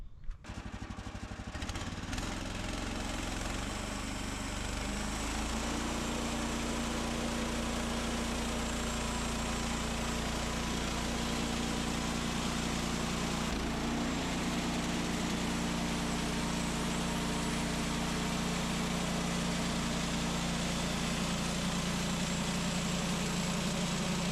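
A loud sawmill engine runs continuously while milling lumber, with a steady drone, starting up at the beginning and holding an even, mechanical roar throughout.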